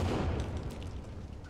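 An explosion in the survival video game The Forest bursts as a dense, loud roar with deep rumbling lows and crackling, sustained for over a second without fading much.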